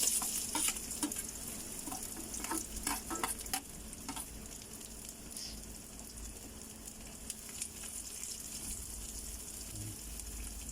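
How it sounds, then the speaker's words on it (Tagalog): Garlic frying in a pan for sautéed shrimp paste, a continuous close sizzle with scattered crackles and occasional stirring scrapes, fairly quiet and steady throughout. "Pupulahin natin ang bawang"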